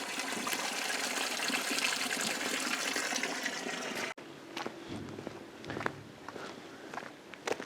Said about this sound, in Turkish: Inanılmaz derecede su sesinden başka hiçbir şey yok.